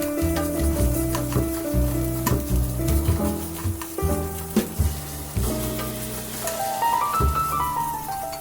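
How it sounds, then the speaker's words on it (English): Steady crackling sizzle of bacon frying in a pan, close up, with occasional scrapes and stirring clinks throughout. "Spread the bacon around to make sure that each bacon has contact with the pan"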